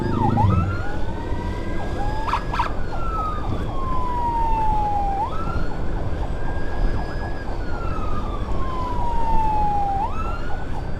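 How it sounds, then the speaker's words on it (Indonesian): An ambulance's fast wailing siren sweeps rapidly up and down over steady traffic rumble, continuous and fairly close throughout. "Ini untuk sirinenya pakai sirine cepat guys"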